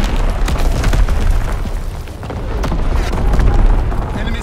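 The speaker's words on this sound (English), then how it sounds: "Incoming enemy artillery!" Loud, continuous barrage of enemy artillery explosions in the WW2 video game PFC, deep rumbling booms rolling one into another with no pause, dense and close throughout.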